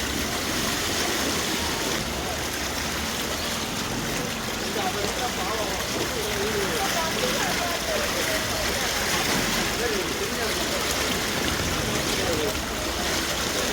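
Flood water after heavy rain in Virudhunagar rushes through the streets in a steady, loud, unbroken broadband roar close by, with faint talk underneath.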